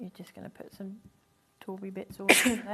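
One sharp, loud sneeze bursts out near the end, following a stretch of someone talking.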